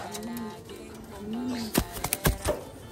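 Tippler pigeons being handled give soft, throaty coos, followed by a few sharp bursts of flapping or rustling near the end.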